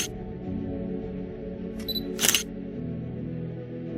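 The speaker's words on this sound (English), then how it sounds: "wait for the device to capture the image with the capture sound" A 3D imaging detector watch fires its capture sound, a short shutter-like click burst heard once near the middle over a steady low background hum.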